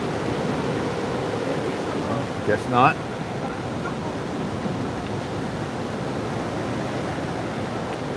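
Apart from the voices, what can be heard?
sea waves in Bali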